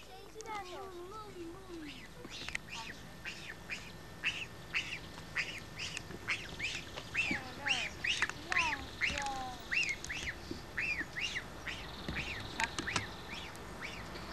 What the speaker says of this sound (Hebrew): אתה משחק עם הברווז?